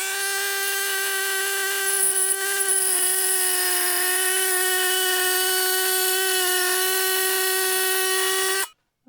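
Power tool cutting sheet metal on a Mercedes W126 during rust repair of the rear window channel, a steady high-pitched whine with strong harmonics that runs close and loud for about nine seconds, then stops abruptly.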